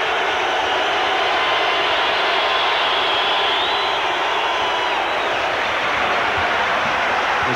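A basketball arena crowd at an NBA playoff game between the Trail Blazers and Suns in Phoenix builds into a loud, continuous roar, a dense, sustained wash of voices filling the whole stretch without letup.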